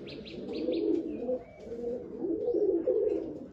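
Pigeons coo softly in low, rolling murmurs, with a few faint chirps at the start and no talking.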